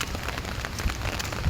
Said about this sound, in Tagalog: Sobrang ulan guys.